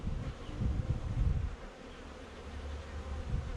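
Dense buzzing of many honey bees close by at an open hive, a continuous low droning hum that swells and eases, with no talking.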